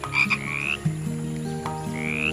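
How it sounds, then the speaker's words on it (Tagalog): Frogs croak in a busy chorus, with rising chirping calls over steady lower croaks, continuous and fairly close. "Sina Kuko at Coco ay magkaibigang palaka."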